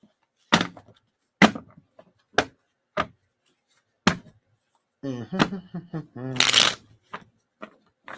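Tarot cards are riffled and shuffled in several separate sharp bursts, close and crisp, with a person speaking in between.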